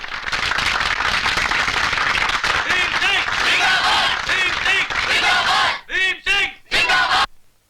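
Large crowd at a welcoming ceremony, with dense cheering and yelling over loud clapping that stays steady, then breaks into short bursts before stopping near the end.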